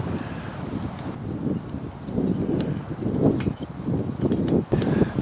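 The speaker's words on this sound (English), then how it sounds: "this wind is blowing so dang hard" Strong wind blowing hard outdoors at a campsite, a low, rumbling buffet that gusts and swells unevenly across the microphone, fairly loud and continuous, with no talking.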